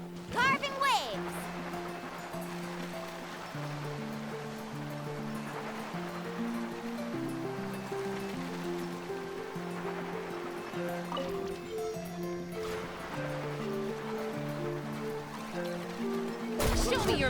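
Surfing on ocean waves in the video game Genshin Impact, with continuous rushing surf and water wash running under steady game music throughout, with brief louder splashes at the start and end.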